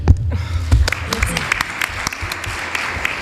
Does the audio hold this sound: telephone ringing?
no